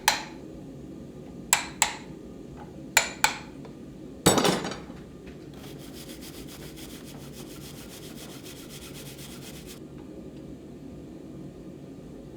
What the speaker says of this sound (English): use my rasp to clean the edges and remove any forge scale